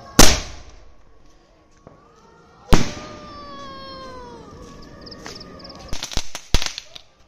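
Firecrackers go off at a fair, opening with a sharp loud bang, then another blast followed by a whistling tone, and finally a quick cluster of cracks near the end.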